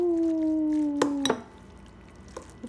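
Noodles being mixed with spicy sauce in a pot, heard as two quick metallic clanks of a utensil against the pot over a steady whining tone, then quieter faint knocks.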